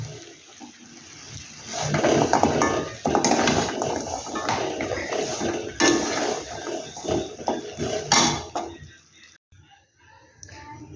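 Kotkoti sweet mixture being stirred in a pan, with repeated scraping and clattering of a spoon against metal in irregular bursts, close and moderately loud, quieting near the end.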